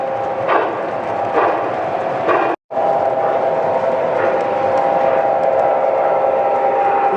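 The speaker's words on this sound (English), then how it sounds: "This is a Northern Pacific from Lionel." A Lionel Northern Pacific model locomotive with speed control runs steadily around a home layout, giving a continuous rolling rail hum with a faint repeating click of wheels over track joints and a brief dropout midway.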